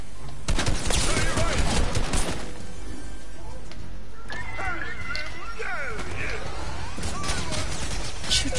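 Gunfire in Fortnite during a Team Rumble match, a rapid loud burst of shots early on, then scattered shots and game noise under a talking voice.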